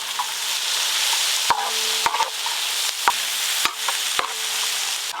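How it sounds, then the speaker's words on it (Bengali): Chopped onion, capsicum and tomato frying in ghee and butter for pav bhaji, a steady close sizzle broken by several distinct clinks and scrapes of a spatula against the pan. "ঘি আর বাটারে ভালো করে ভেজে নেব"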